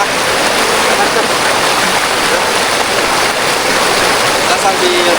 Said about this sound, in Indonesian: Nah, itu ada curug kecil.